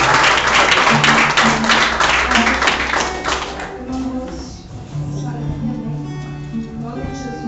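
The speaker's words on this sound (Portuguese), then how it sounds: "Uma salva de palmas para Jesus." A church congregation claps for Jesus, brisk rhythmic clapping that fades out after a few seconds into music with sustained tones and voices.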